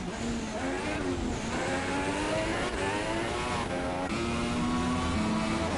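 Formula 3 race car engines whine at high revs around the Monaco street circuit in a racing video game. Several cars rise and fall in pitch through a chicane under steady, moderately loud track noise.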